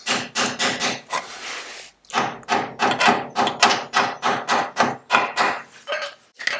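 A hammer striking back tab washers on Citroen 2CV suspension bolts, a close, rapid series of sharp metallic taps in quick bursts with brief pauses between.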